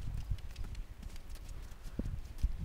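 A horse jogs bareback around cones in an arena, its hooves giving faint, soft, irregular thuds at a steady trot pace against a quiet background.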